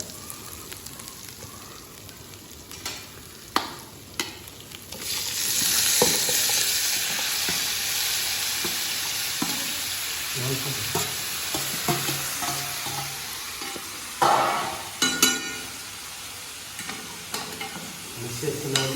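Chicken hitting hot oil in a large pot, a loud steady sizzle swelling after a few clatters, with intermittent stirring knocks and scrapes close by, no voices.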